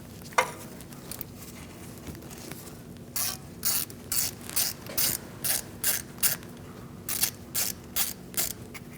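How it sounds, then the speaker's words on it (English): A 1/4-inch drive ratchet with a 10mm socket and extension loosens a bolt on a 2016-2019 Chevrolet Cruze 1.4L: a single sharp knock, then a run of rapid, close clicking strokes in a steady back-and-forth rhythm, no speech. "now we're going to use a 10mm socket with an extension and a 1/4" drive ratchet"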